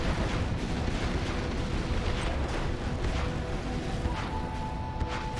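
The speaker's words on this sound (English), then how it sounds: "Scud launcher, another hit and another kill on an outpost there" A Scud launcher's missile strike on an outpost in a strategy video game set in a canyon: a dense, continuous rumble of explosions and blasts, loud and steady from start to finish with no talking.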